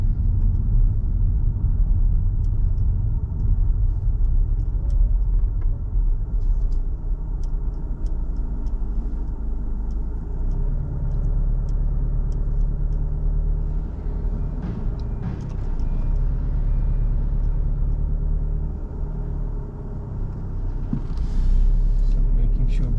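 A car slowing for a turn with braking and a gear change down, heard from inside as a steady low engine and road rumble that dips slightly and then builds again.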